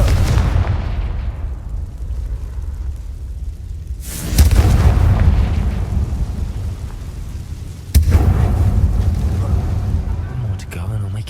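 Blasting spell explosions from the Hogwarts Legacy video game: three heavy booms, one at the start and two more spaced about four seconds apart, each followed by a long rumbling decay.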